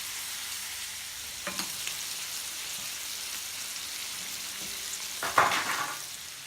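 Big shrimp and beef skewers sizzle steadily on a hot plancha, a continuous close crackling hiss that swells into a louder burst of spitting near the end, with no voices.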